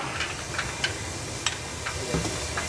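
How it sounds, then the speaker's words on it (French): Steam hissing steadily from a copper alcohol still in the Langres countryside, a soft continuous hiss with faint ticks and a brief low thump near the end. "on voit la vapeur blanche qui sort et on bouche"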